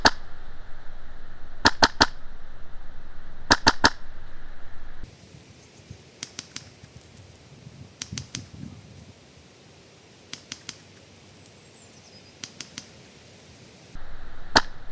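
Wolverine MTW Billet airsoft gun firing 0.32 g BBs at 1.5 joules without suppression, sharp snapping shots in quick pairs and triplets, loud up close and then fainter from about 20 meters away.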